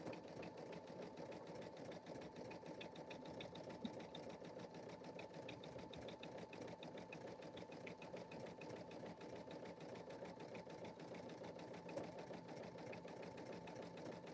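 A sewing machine runs steadily during a live quilting sew-along, its even mechanical hum and rapid stitching pulse continuing unbroken for the whole stretch at moderate, close-up level.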